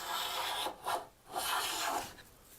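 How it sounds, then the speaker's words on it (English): A hand plane surface-planing a wooden board, taking passes with the grain: a few rasping strokes, each a bright shaving swish, close and clear with short pauses between. "Surface planing."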